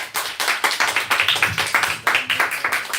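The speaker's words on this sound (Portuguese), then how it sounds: "Vamos aplaudir a Jesus." A church congregation at a Baptist revival service claps in quick, fairly regular bursts, many hands striking together in a rhythmic pattern that carries on for several seconds.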